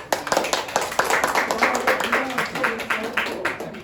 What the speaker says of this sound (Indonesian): Boleh tepuk tangannya untuk Gina.